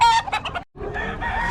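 A chicken at a Bocaue poultry market gives a few sharp clucks and crowing bursts, close and clear, followed by a brief pause and then busy background market noise.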